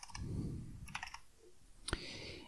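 Keys on a computer keyboard are tapped in short, quiet bursts: a quick run of clicks, a pause, then a few more strokes and one sharper key press, close and faint, with no one talking.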